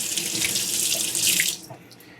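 Water runs steadily from a tap to wet a Japanese ceramic whetstone for knife sharpening, a bright splashing hiss for about a second and a half that then drops to a quieter trickle.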